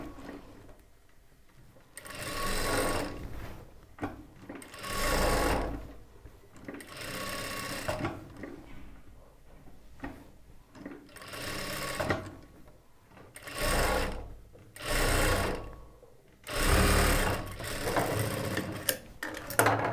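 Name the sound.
sewing machine stitching a churidar top neck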